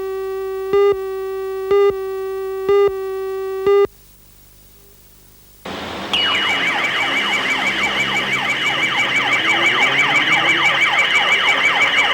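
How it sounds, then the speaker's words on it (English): A suburban car alarm shrieks loud and close, its rapid warbling siren running on continuously after a few evenly spaced electronic beeps and a short pause. "the high-pitched scream of a car alarm"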